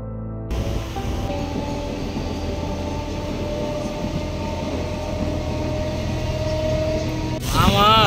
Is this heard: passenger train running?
yes